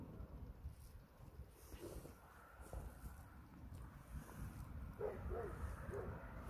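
Wind blows outdoors under a cloudy, chilly sky, a continuous low gusty rumble buffeting the microphone, with faint, brief distant sounds rising through it.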